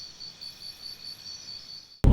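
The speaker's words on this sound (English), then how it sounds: "I hear crickets." Crickets chirp in a steady, continuous high trill in a large front and back yard, moderately loud and unbroken, ending with a sudden loud thump.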